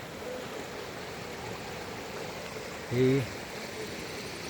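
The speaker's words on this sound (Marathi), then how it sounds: "इकडे हे वाहतं पाणी आहे, हे पाणी किल्ल्यावरून येतं इकडे" Rain-swollen, slightly muddy stream water flowing down from a hill fort past village farmland, a steady broad rushing wash throughout, with a brief spoken word cutting in near the end.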